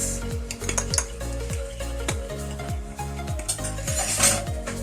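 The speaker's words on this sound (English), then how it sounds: "So I'm going to mix it in here" A spoon stirs three cloves of finely minced garlic into a garlic naan topping in a bowl, making steady rhythmic scraping and clinking strokes, close and fairly loud, with no talking.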